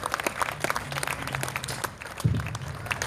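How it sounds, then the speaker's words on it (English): An audience at a speaking event claps in a sustained round of applause, a dense, even patter of many hands at moderate loudness. "A round of applause for everybody who put this together."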